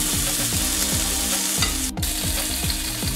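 Bacon frying in a pan for an English breakfast, a dense, even sizzle that holds steady and loud throughout, with a brief crackle near the end and no voices.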